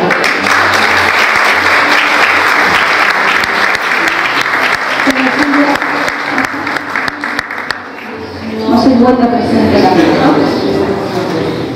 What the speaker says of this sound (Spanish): La recibimos con fuerte aplauso.